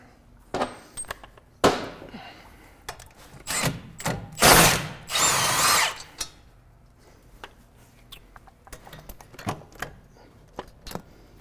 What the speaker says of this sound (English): let's see if we can get these bolts out